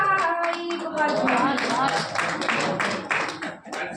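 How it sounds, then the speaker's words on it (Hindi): Rhythmic clapping from a group at a Labour Day poetry recitation, loud and close, mixed with singing or chanting voices over it. "जोरदार ताली बजाएं"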